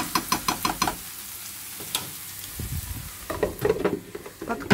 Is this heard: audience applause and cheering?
no